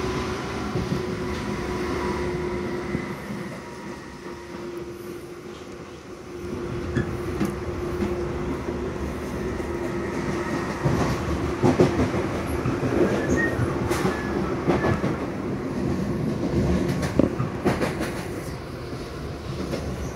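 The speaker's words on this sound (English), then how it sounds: "Now we're leaving the London Overground lines and we're on the Chatham main line." A Southeastern train runs on the Chatham main line near Clapham, heard from on board as a steady rumble with clickety-clack of wheels over rail joints. The noise swells and grows rougher partway through.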